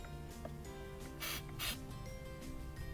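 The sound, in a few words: spraying MAF sensor cleaner in a Toyota Prius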